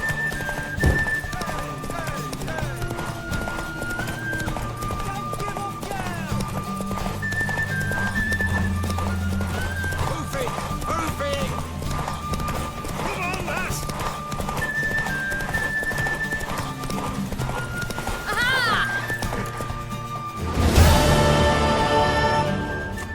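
Steady hoofbeats of a horse running, with a whinny near the end, heard under music and voices.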